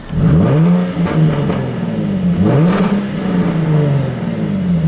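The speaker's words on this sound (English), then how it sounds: "This thing is so much fun. Such a good sounding car." A loud, close sports car engine revs repeatedly, its pitch rising and falling in strong surges with a throaty, rumbling tone.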